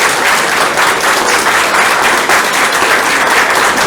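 Audience applause after a lecture by Dr. Andrey Moreira, loud, dense and continuous clapping from a large crowd that holds steady throughout.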